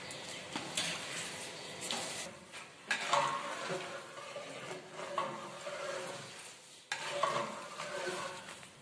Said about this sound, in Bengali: আলু এবং গুঁড়ো দুধগুলো এভাবে মিশিয়ে ভালোভাবে